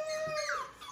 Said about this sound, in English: Are you going to give me another howl?